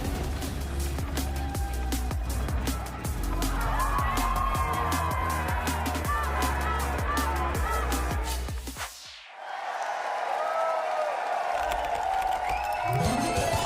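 A loud esports arena crowd roars and cheers at a VCT Masters Valorant match in Santiago, a dense sustained wall of voices with rhythmic claps and chanting that briefly dips before swelling again, with talk mixed in.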